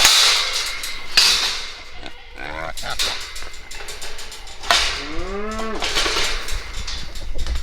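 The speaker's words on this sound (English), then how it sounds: "let's just take a look at the cows" Cattle on a farm low and moo at close range, with a long, wavering call near the end, amid rustling, shuffling movement and background farm noise.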